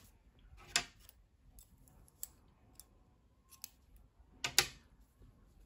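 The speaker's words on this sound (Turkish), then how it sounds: "Beyaz renkli ipliği kesiyorum" Scissors snipping white knitting yarn, a few crisp separate cuts close by in a quiet room, irregularly spaced with a pair of sharper snips near the end.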